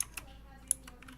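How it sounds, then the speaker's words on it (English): Soft keystrokes on a mechanical keyboard during a Minecraft session, a few scattered clicks over a quiet background hum. "Mechanical keyboard."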